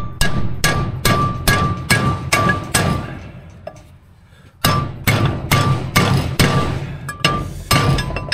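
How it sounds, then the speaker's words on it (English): A punch struck with a hammer to seat a brake rotor on the hub of a Duramax dually's rear axle, sharp ringing metallic blows in two steady bursts of about seven hits each, separated by a short pause. "And we'll set it with the punch."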